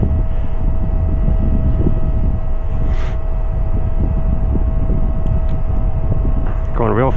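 A fast RC fixed-wing airplane flies overhead at about 40 knots. It gives a steady, thin motor whine over a continuous rush of wind noise, with a brief louder swell near the end.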